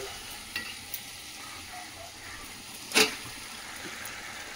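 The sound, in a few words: chicken frying and being stirred with spices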